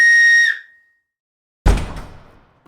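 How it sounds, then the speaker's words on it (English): A homemade wooden whistle gives one short, clear, piercing blast. After a moment of silence, a single dull wooden knock follows. "we're going to be making some wooden whistles"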